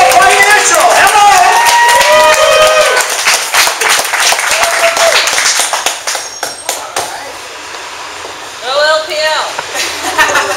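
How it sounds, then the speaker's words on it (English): An audience at a San Jose networking meetup applauds a speaker with dense, loud clapping and cheering that thins out after several seconds, while voices carry over the crowd. "help me with a big round of applause"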